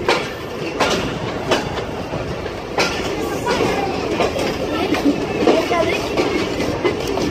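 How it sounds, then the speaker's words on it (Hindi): The Karakoram Express pulls into Faisalabad station with a rumbling rattle and rhythmic clickety-clack of wheels over rail joints, loud and steady, with voices faintly audible in the background. "forty one arrival Karakoram express Faisalabad"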